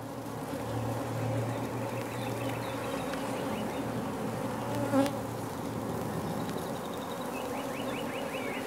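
Honey bees buzzing around an open hive while being shaken into a starter colony, a steady dense drone of many wings, close and continuous throughout, with no voices.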